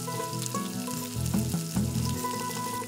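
Ground cashew and poppy seed paste sautéing in oil with green chilli for doi chicken, a steady close sizzle with soft stirring throughout.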